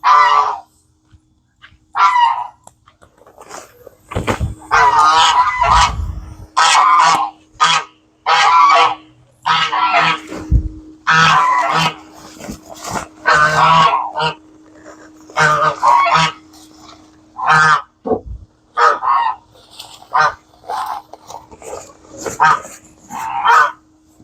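Loud, repeated goose honks in rapid bursts, close by, with occasional barking-like calls and a low steady hum beneath.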